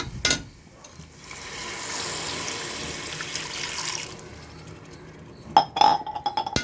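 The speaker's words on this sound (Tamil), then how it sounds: "இதோட நம்ம ஏற்கனவே எடுத்து வச்சுருக்கிற தேங்காய் பாலை ஆட் பண்ணிக்கலாம்." Coconut milk pours into a pan of sautéed onions in a steady stream lasting a few seconds, followed by sharp clinks of a metal utensil against the pan and bowl.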